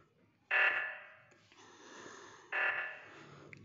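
Among Us oxygen sabotage alarm blares in two loud, harsh buzzing bursts about two seconds apart, with a fainter steady tone and soft breathing between them.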